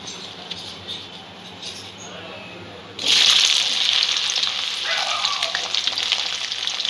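Okra dropped into hot mustard oil over a medium-low gas flame. A quiet start gives way to a sudden loud, bright sizzle that holds steady to the end.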